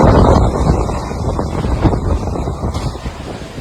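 Strong storm wind in Pithoragarh, Uttarakhand, buffeting the microphone with loud, rough, continuous gusting that eases slightly toward the end, with no voices.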